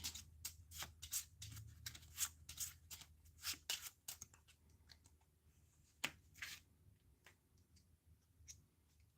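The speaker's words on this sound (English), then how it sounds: "I'm just going to take the jacks and just shuffle those together to create a new pile of jacks for us" Playing cards, a small pile of jacks, being shuffled by hand at close range, a rapid run of crisp riffling clicks and snaps that thins into scattered taps, quiet and alone.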